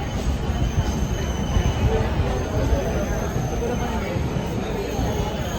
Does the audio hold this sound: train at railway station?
yes